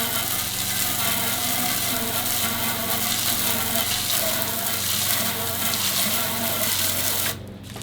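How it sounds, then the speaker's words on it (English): A continuous hiss of water spraying against car exhaust tips, steady and close, with a faint hum underneath, cutting off abruptly near the end. "The next step was to rinse any residue that remained on the exhaust tips"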